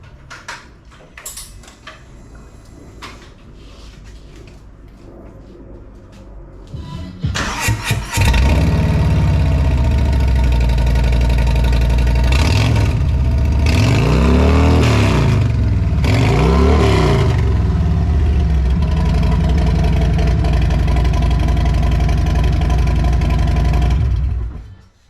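A 2021 Harley-Davidson Road Glide V-twin starts and idles through 36-inch fishtail exhausts with the baffles removed, loud and close, with a few deep throttle blips rising over the steady rumble before it shuts off.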